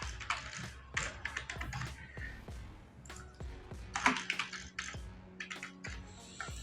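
Someone types a password on a computer keyboard while setting up a new company in QuickBooks Desktop: a close, irregular run of soft plastic key taps and clicks with short pauses between bursts.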